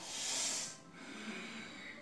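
A single audible inhalation through the nose during a beginners' and seniors' yoga sun salutation class, a soft breathy rush that fades after about a second, near and fairly quiet.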